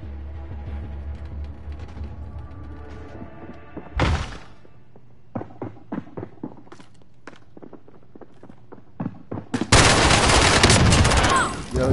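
Bursts of automatic gunfire crack out in Call of Duty Warzone, a battle-royale shooter, with several short volleys and single shots scattered over footsteps and thuds before a loud, sustained final burst.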